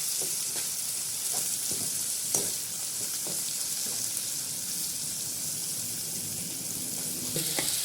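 Two tomatoes frying in a pan while an egg and vegetable rice dish cooks: a steady, close sizzle and hiss with scattered soft clicks of stirring, and no voices.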